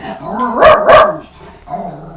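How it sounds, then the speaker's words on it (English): Two loud, close dog barks in quick succession, with a lower whining growl before and after. "my dogs are really naughty and will bark at fresh air"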